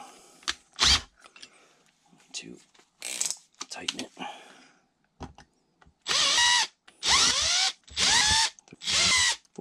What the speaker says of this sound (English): Now I'm just gonna drill these out to what they need to be.